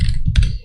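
Keys clack on a computer keyboard as code is typed, giving a brief, loud, close burst of several quick presses with no voice over them.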